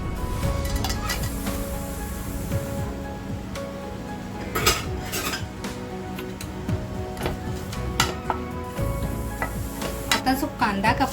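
Whole spices (bay leaf, cinnamon, cloves, black pepper, green and black cardamom) dropped into hot oil for a smoky mutton keema, with a faint sizzle under clattering pans and ticking utensil knocks, while a voice talks at times.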